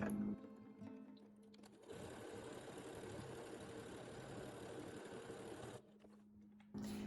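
A sewing machine runs a zigzag stitch along the corner of a fabric multi-use toiletry bag, with a steady mechanical whir lasting several seconds between brief pauses and no talking.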